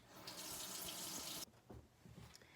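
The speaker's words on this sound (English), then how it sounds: "So I'm just going to run it under the water and wash it around for about 30 seconds" Kitchen tap water gushing steadily onto a butternut squash being washed in the sink, loud and close for about a second and a half, then cutting off, leaving a few soft drips and handling noises.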